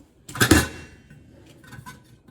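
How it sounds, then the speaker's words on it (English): A small pot being lifted out of a billy boil cooker for bone broth, giving a loud metallic clatter and scrape near the start, then fainter clinks and knocks of cookware close by. "So I'm just taking the little pot out of the billy boil"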